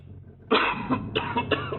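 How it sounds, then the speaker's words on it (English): A burst of harsh, hacking coughs follows a moment of quiet, several rough coughs in quick succession, close and forceful. "And then, he started coughing violently."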